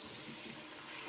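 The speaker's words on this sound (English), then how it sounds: "We'll just fill my watering can up here." Water running from a tap into a watering can, a steady soft hiss of filling water, faint and continuous with no talking.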